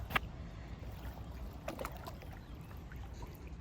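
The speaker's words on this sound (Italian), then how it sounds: "A me piace molto questo rumore del riecheggiare, no? Dell'acqua di lago, caratteristico." Lake water lapping softly against the shore at Desenzano, a quiet, low wash with a few small splashes and trickles scattered across a few seconds.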